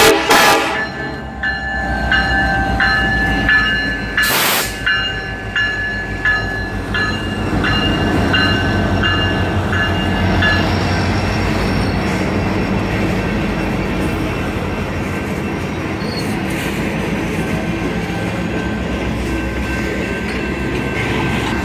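A train passes close by on a hot day. A loud horn blast comes early, followed by a steady, heavy rumble and rolling wheel clatter from the rail cars that continues to the end.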